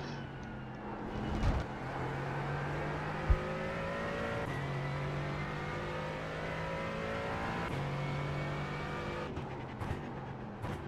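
A sports car racing at Long Beach in the iRacing sim, its engine holding a steady loud drone across the whole stretch, with brief gear-shift blips and a sharp click partway through, no talk over it.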